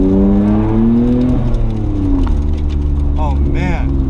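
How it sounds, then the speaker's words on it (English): An R32 is driven hard, its engine revving loud and close from inside the car, pitch rising sharply, dropping at a gear change, then climbing again with a brief whine near the end. "it's time for me to drive the R32"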